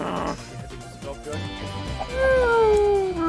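A cat meows in the video game Happy Wheels, a rising drawn-out cry near the end over game music and background noise, with someone talking earlier.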